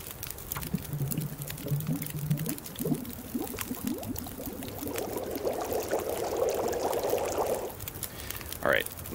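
Water boils in a pot over a campfire in the survival video game The Long Dark, a soft bubbling and hissing that swells over several seconds, with occasional faint clicks.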